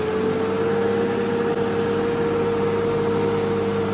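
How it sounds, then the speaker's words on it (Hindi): A tractor ploughs a field, its engine droning steadily under load with a constant hum and low rumble, close and unbroken throughout, with no voices. "ट्रैक्टर का भी जोर थोड़ा सा ज़्यादा लग रहा है"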